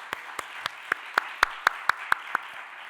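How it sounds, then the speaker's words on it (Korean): A church congregation claps in unison, about eleven evenly spaced, fairly faint claps in a steady rhythm with a quiet room behind them. "다시 한번 주님께 박수하겠습니다."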